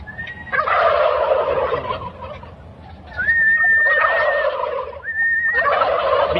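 Large turkey gobbling on a farm in Egypt, three loud rattling gobbles in succession with short pauses between, close and clear, no speech.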